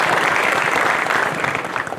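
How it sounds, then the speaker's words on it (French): A conference audience claps steadily and fairly loudly for a couple of seconds, the dense applause thinning slightly toward the end. "On peut l'applaudir pour cette entrée théâtrale d'ailleurs."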